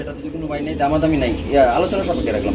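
Pigeons of the 21-ring breed, a male and female pair kept for sale, coo close by in a low, steady, continuous murmur that swells and fades over a couple of seconds.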